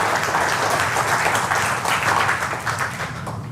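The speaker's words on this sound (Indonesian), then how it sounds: "tepuk tangan dulu buat platinum nanoparticles" Audience applause during an educational health talk, a dense round of clapping that holds steady and then tapers slightly toward the end.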